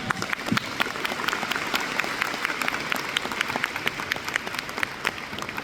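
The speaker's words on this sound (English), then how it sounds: "You can applaud." A commencement crowd applauds steadily during a graduation speech, a broad wash of clapping with individual sharp claps standing out, moderately distant and even throughout.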